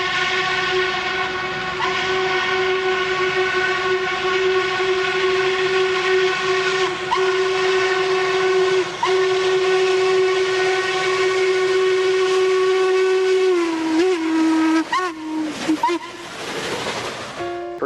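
A Norfolk and Western steam locomotive, number 1218, sounds a long, loud, steady chime whistle over rumbling train noise, holding the tone for many seconds before it wavers and breaks into shorter blasts at the end.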